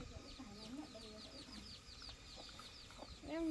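A rooster with many spurs, a prized Vietnamese farm breed, clucks faintly in a rustic yard, soft repeated low calls and a rising note at the end amid background noise and distant chatter.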